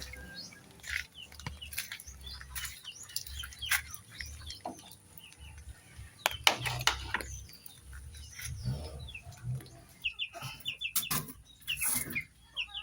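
Chickens cluck and chatter at a distance amid scattered bird chirps and outdoor background noise, calls coming irregularly throughout.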